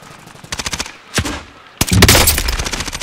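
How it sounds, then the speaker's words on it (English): Automatic gunfire in the video game Warzone, loud and close: a rapid burst of shots, then a single sharp report, then a dense sustained volley. "They're shooting."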